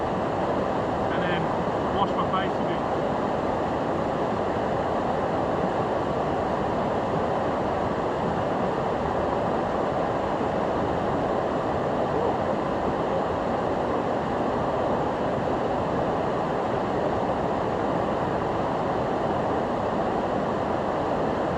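Mountain river near Mestia, Georgia rushing steadily close by, a loud, unbroken broadband roar of flowing water with wind buffeting the microphone and no pauses throughout.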